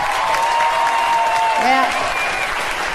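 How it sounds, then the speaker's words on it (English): Loud, sustained applause from a comedy show audience fills the whole stretch at a steady level, with a brief voice or whoop rising through the clapping partway in. "Applaud the married girls. Applaud real big."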